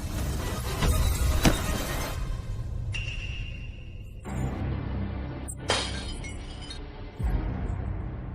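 Glass shatters with a sharp, bright crash, followed by scattered clinks and tinkling fragments amid abrupt cuts between louder and quieter noisy passages.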